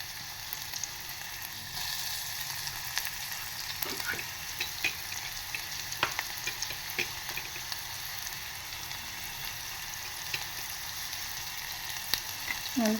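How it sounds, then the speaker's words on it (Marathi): Chopped onion fries in hot tempering oil with a steady, moderate sizzle close by, sprinkled with small crackles and pops as it cooks, no voices over it. "तर आपण पहिला कांदा फोडणीला घालणार आहे"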